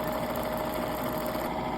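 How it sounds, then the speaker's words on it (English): Sewing machine winding a bobbin, giving a steady high-pitched whirring motor hum that holds even and continuous throughout. "you're going to press it to start winding your bobbin"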